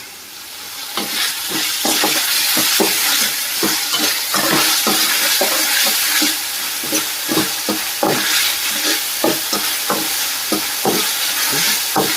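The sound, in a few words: chicken frying with ginger paste on high flame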